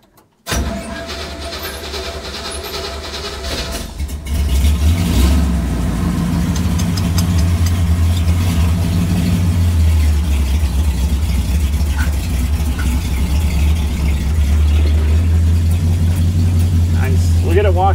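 A car engine on a cold start: a brief crank, then it catches and idles loud and close with a steady low rumble, rising slightly a few seconds in; voices talk over it.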